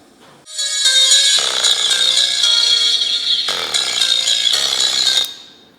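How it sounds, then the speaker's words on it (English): A small speaker driven hard by a car audio setup alongside a 15-inch subwoofer, letting out a loud, harsh buzzing distorted tone that holds for several seconds with rattling changes before cutting off. "we blow out this little speaker"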